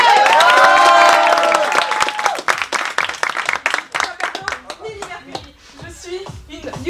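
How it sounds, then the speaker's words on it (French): An audience at a BAFA camp evening contest claps and cheers, with hands beating close and energetically. A voice and a sung or shouted tone open the burst, and scattered claps trail off at the end. "Attendez un applaudissement s'il vous"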